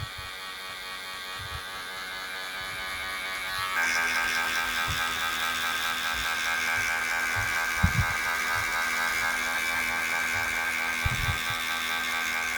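Electric hair clippers buzz steadily while cutting a low taper fade with guards, the motor tone shifting partway through, with occasional faint knocks and no talking.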